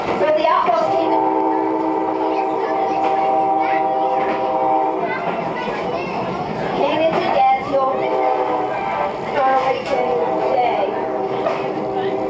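A St. Louis, Iron Mountain and Southern Railway train rumbling along with sustained horn-like tones, loud and continuous, rising and falling over a steady mechanical roar.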